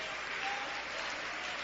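A church congregation claps their hands in praise, a dense wash of applause throughout a brief moment, moderately loud with no clear individual claps standing out.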